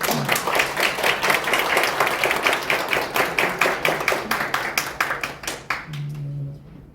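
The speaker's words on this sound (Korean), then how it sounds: "다시 한번 이 두 분을 위해서 박수 한번 드립니다" An audience claps steadily and fairly loudly throughout a Korean elder-care committee event, with the applause thinning out and fading toward the end.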